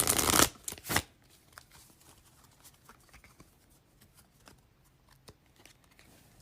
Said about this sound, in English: Now I'm gonna pull the Rebel deck.